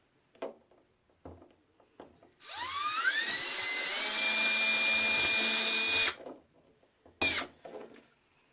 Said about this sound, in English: drill you a bunch of holes along the side.